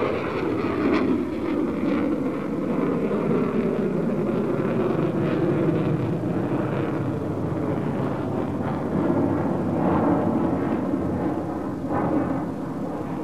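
A Saab Viggen jet fighter roars continuously overhead during an air display loop, its loud engine noise swelling and shifting in pitch as it sweeps around, with no voices.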